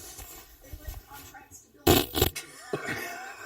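A fart sound played back during a guessing game, a loud burst of about half a second with a brief second puff, standing out from faint room murmur and people talking quietly around it.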